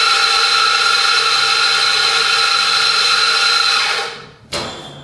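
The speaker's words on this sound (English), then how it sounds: "Grind my coffee fresh." An electric grinder mills fresh espresso beans in a steady, loud whir that holds for about four seconds, then cuts off and is followed by a short clatter.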